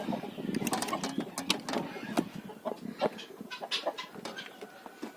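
Chickens clucking on a farm, a run of short close clucks and chirps in quick irregular bursts, fairly loud, with a soft voice murmuring in the background.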